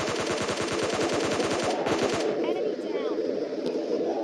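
Rapid automatic gunfire from a PUBG Mobile Lite match, a loud steady burst of shots for about two seconds, then a shorter volley and fading game ambience with scattered faint effects.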